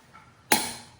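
GTKii GTK38 knife in DC53 steel chopping through paracord with a single sharp, close impact that rings out and decays over half a second.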